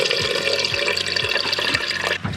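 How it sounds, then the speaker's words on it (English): Diesel fuel runs from a small pump into a tank on an outback track, a continuous splashing liquid pour with a low rhythmic pulsing from the pump, close and steady. "So we just turn that on, little pump starts and start pouring."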